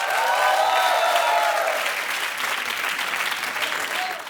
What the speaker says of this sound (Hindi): एक बार जोरदार तालियां हो जाए अजहर की पूरी टीम के लिए।